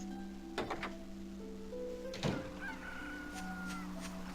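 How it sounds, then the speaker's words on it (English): Rooster crowing in the video game Dragon Quest 8, two short crows heard faintly over a calm, sustained musical soundtrack, the second one a bit louder. "the rooster in the background"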